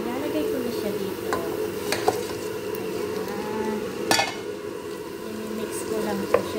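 Fried potatoes, onions and sliced hamburger are stirred together in a pan, with a continuous sizzle broken by occasional sharp scraping clicks of the utensil against the pan, fairly close.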